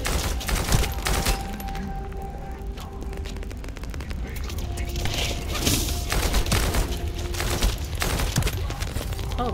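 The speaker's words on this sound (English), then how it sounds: "Oh no, you're getting shot at." Sustained volleys of game gunfire rattle on continuously at a fairly loud, steady level, with a player's voice talking over the shooting throughout.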